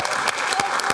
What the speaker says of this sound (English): Round of applause for Rishi